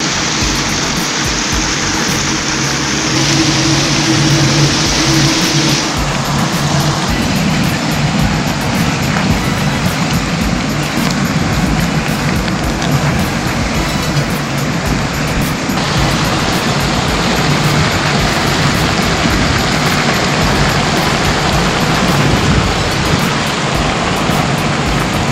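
Steam venting steadily from the Candarave geysers in Peru, a loud, continuous roaring hiss like a strong jet or rushing water that holds constant throughout with no voices.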